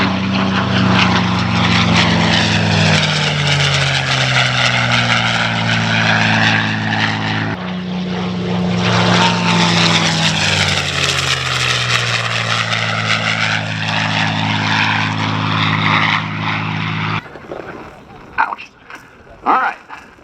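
A P-51 Mustang named Quicksilver roars past in a low banana pass at an air show, its piston engine and propeller drone swelling and falling twice, loud and close, with crowd noise after.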